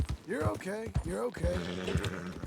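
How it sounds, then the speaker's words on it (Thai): A startled horse in Red Dead Redemption 2, whinnying in several shaky, wavering calls close up, with stamping and movement underneath. "ม้าผมตกใจ"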